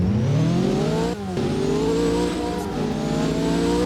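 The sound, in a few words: car engine accelerating in Roblox game Driving Empire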